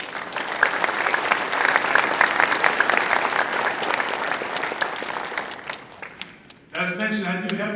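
Audience applause at the St. Luke's commencement ceremony, sustained dense clapping from a large crowd that fades out after about six seconds before a speaker's voice resumes.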